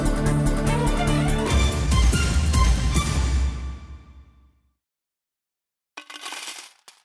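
Coins jingle and clatter as they drop, a dense metallic cascade that tails off into silence before a short second burst of clinking.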